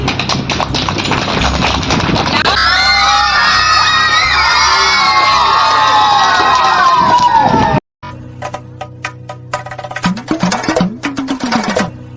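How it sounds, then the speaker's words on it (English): Children at an Independence Day school programme roar with cheering and shrill, whooping shouts, a loud crowd din that cuts off abruptly, followed by rhythmic thumps and scattered voices. "Welcome a loud applause."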